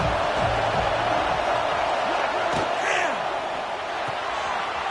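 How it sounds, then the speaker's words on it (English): Auburn football stadium crowd cheering on third down, a loud continuous roar of many voices with scattered whoops and shouts rising and falling. "This Auburn crowd trying to conjure up a little magic here on 3rd down."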